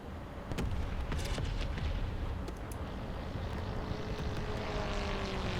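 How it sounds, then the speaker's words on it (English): Catapult-launched plane in the naval battle mode of War Thunder, a steady loud roaring engine rush that rises in intensity, with sharp bursts of distant gunfire scattered over it. "The sound effect of the catapult plane."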